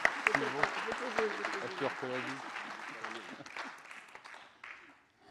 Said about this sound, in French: On t'applaudit à nouveau.